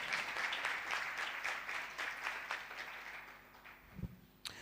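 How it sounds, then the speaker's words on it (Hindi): A church congregation claps together, loud at first and then thinning out and fading over a few seconds, ending in a few scattered claps and a knock. "आओ जोरदार तालियां बजाएं"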